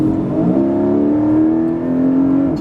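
Porsche 718 GTS with its naturally aspirated engine heard from the cabin, a loud steady rising engine note with a quick blip and change in pitch as it downshifts under acceleration.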